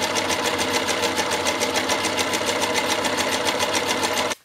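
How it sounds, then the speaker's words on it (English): Sewing machine stitching two fabric circles together for a tough water bottle pouch, running in a steady fast rhythmic whir close by, alone, for several seconds before stopping abruptly. "you're going to sew those together"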